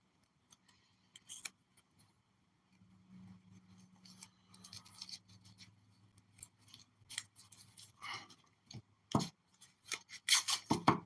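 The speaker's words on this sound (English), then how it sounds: "Tape them up nice and secure." Tape is torn and wrapped around homemade firework devices, giving scattered quiet rips, crinkles and sharp tearing snaps with pauses between them, growing busier toward the end.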